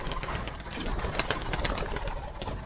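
Racing pigeons being let out, with a dense, busy mix of cooing, flapping and rustling that stays continuous and close throughout.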